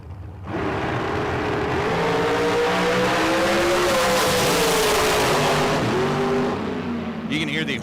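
Drag race car engine at a dragstrip bogging into a rhythmic whomping after a missed shift, a loud sustained roar with wavering pitch and a brief high squeal near the end.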